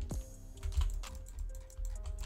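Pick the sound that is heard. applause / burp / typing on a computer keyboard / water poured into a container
typing on a computer keyboard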